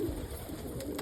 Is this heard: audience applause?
no